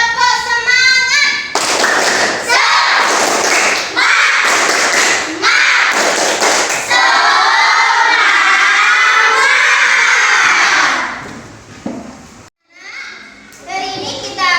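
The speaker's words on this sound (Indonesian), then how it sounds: "Sekarang tepuk semangat dulu ya. Tepuk semangat." Children in a classroom shout together in bursts and clap in rhythm, loud and close, with a brief pause near the end before a few more voices.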